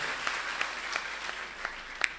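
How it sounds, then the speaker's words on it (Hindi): An audience at an open-air Hindi poetry gathering in Sarwania Maharaj claps steadily and densely, with a few sharper individual claps standing out near the end. "एक बार जोरदार तालियां।"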